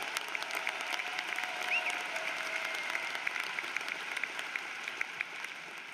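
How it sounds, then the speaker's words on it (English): Audience applause at a university commencement ceremony, a sustained wash of many clapping hands with scattered sharper claps, fairly even throughout, some distance away in a large hall, with no talk over it. "That also deserves a round of applause."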